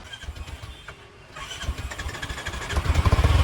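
A Royal Enfield Bullet motorcycle's electric self-starter whirs briefly before the engine catches into a close, loud, rhythmic thumping idle that grows stronger.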